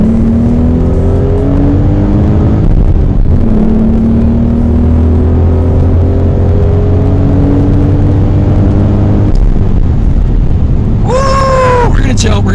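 A 2016 Ford Mustang with a V6 engine drones loud and close with a steady exhaust note, its pitch climbing gradually through a revving run before a brief sharp squeal near the end.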